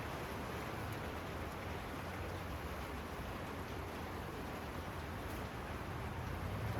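Steady rain pours down in a constant, dense wash of noise, drumming evenly on a surface with no voices.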